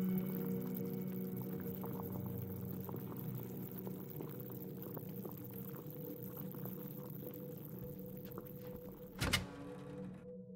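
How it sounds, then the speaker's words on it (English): Water bubbles and boils in a pool area inside a video game, a steady low churning with a faint ongoing hiss and a sudden loud thump near the end. "That noise, is the water boiling?"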